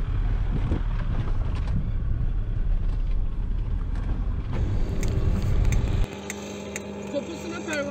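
A car driven hard on a road near Enez, a loud rumbling engine roar mixed with wind noise that suddenly drops away near the end, leaving a thinner whine, with voices talking over it.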